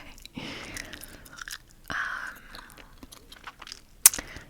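Gum is chewed close to the microphone in a quiet setting, soft wet smacks and mouth clicks at an irregular pace with one sharper snap near the end.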